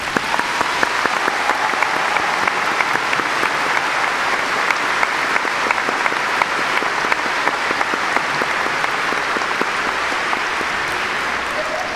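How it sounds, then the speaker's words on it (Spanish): Warm, sustained applause fills a church at Mass as pilgrims are welcomed, a dense, even wall of many hands clapping at steady loudness for the full stretch. "lo recibimos con un caluroso aplauso"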